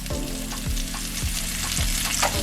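Vegetables seasoned with onion powder, oregano and a pinch of salt sautéing over medium flame, a loud close sizzle broken by regular spatula scrapes and stirs roughly every half second.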